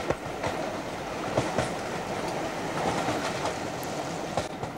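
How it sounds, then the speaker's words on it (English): A Southern Railway S15 10-wheeler steam locomotive passes with its train, giving a steady rumbling roar with repeated rail clicks and clacks at moderate distance, and no talk. "Further along, we pick up number 841, a Southern Railway S15 10-wheeler."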